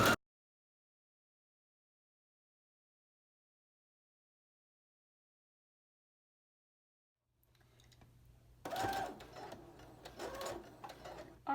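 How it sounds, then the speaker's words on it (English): A sewing machine stitches fabric for a wrap coat with the presser foot lowered; after a long silence it starts whirring steadily and close for the final few seconds, with no voices. "Put your presser foot back down and keep sewing."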